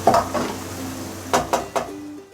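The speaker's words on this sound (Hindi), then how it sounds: "दो से 3 मिनट तक बस इसको मैं बिल्कुल मीडियम फ्लेम पर फ्राई करूँगी, स्पाइसेस को भी कीमे और प्याज के साथ।" Mutton mince with onions and spices being stirred and fried on medium flame, with a soft sizzle under several sharp scrapes and knocks of a spoon against the pan.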